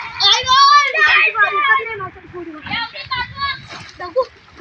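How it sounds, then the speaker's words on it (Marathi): Children swim in a river, with splashing and kids' voices and shouts heard close by through most of the clip, moderately loud and continuous. "बघा इकडे पोरं पोहत आहेत"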